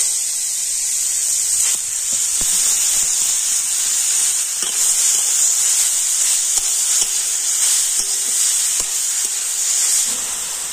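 Carrots and beetroot sizzle in hot oil tempered with five-spice seeds, a steady, loud frying hiss running throughout with faint stirring clicks and scrapes, and no talking.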